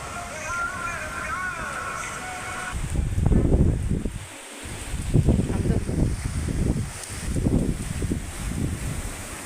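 Gusty wind roars against the microphone in rising and falling waves during a summer rainstorm, loud and close, with a faint tonal sound early on.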